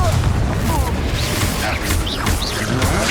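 Confringo explosion spell in Hogwarts Legacy, a continuous loud crackling blast with booming impacts throughout, layered with busy combat effects and voices.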